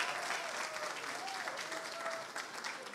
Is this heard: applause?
yes